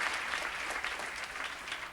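Audience at a Green New Deal town hall clapping steadily, a dense even patter of many hands, fairly close and sustained throughout with no speech over it.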